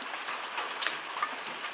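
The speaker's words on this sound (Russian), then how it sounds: "Ночью был такой сильный дождь. Сейчас, видите, просто льет" Heavy rain pours outside a country house, a steady, dense hiss of falling water with scattered drops pattering nearby, heard alone for a brief moment.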